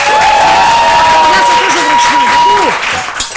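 A studio audience applauds on a televised cooking show: loud, dense clapping with crowd noise and raised voices mixed in, a sustained tone running underneath, then tapering off toward the end.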